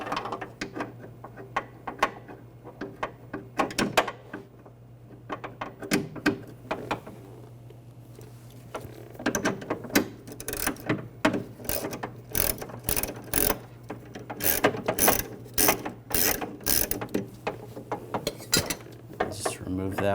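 A ratchet with an E12 socket clicks rapidly in bursts while removing a bolt inside the rear door of a 2006-2010 BMW 550i, close and sharp, with metallic clinks between runs.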